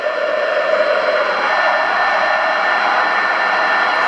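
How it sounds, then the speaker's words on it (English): A steady digital data signal comes through an amateur radio receiver above the normal noise floor, a constant hissing, buzzing tone held at even loudness for several seconds with no voices. "there is some kind of data coming in above my normal floor"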